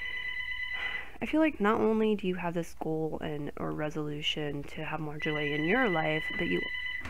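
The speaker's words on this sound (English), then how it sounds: "I apologize about the phone ringing" A telephone rings steadily in the background during a tarot-style reading about New Year's goals, its repeating electronic tone clear at the start and end while someone talks continuously over it.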